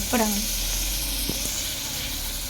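Food sautéing in a pan with salt added for a home lunch gives a steady close sizzle and hiss, with a brief voice near the start.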